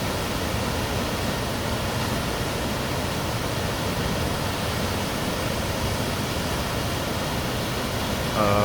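Koosah Falls on the McKenzie River in Oregon roars as a dense, continuous rush of falling water, steady and broadband throughout, with a brief extra sound right at the end.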